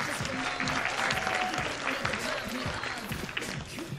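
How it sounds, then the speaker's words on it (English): Applause and cheering from a university talent show audience after a singer's performance: dense, lively clapping with crowd noise and indistinct voices mixed in, steady across the whole stretch. "Can we get another round of applause for her?"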